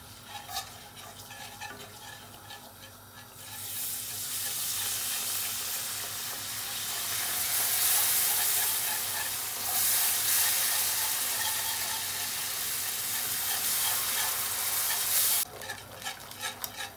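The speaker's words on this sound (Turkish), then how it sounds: "Un kokusu geldiğinde süt ile açalım." Milk poured into a hot flour roux for béchamel, stirred in a pan: a soft stirring, sizzling wash rises after a few seconds, stays steady for about twelve seconds, then drops back to quieter clinks with no talking.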